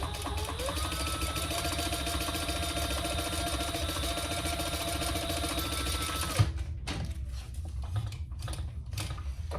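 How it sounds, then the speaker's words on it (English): A sewing machine stitches a decorative row on a baby sling, a fast, steady mechanical whir close by for several seconds before stopping, followed by faint handling sounds, no talk. "do another row of stitches, which I am going to do"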